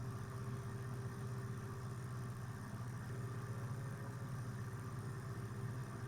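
Steady drone of a simulated Piper PA-30 Twin Comanche twin-engine aircraft in X-Plane 11, a continuous low engine hum with an unchanging tone and level, no voices over it.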